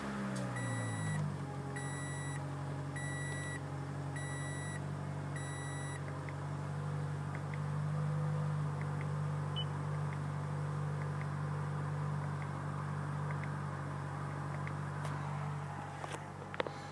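A 2014 Toyota Highlander LE engine starts with a short crank, then settles into a steady, low idle hum under a few cabin chimes at the beginning.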